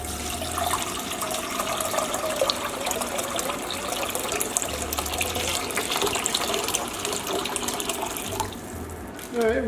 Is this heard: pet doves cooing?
no